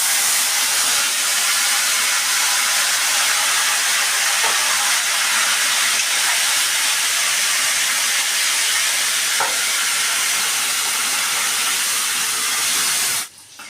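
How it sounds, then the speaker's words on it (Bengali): Bottle gourd pieces dropped into hot oil tempered with whole cumin, dried chilli and radhuni, giving a steady broad sizzle and hiss that runs unbroken and fairly loud, with a faint clatter near the end. "এবারে আমি এই লাউ দিয়ে এটা দিয়ে দিচ্ছি।"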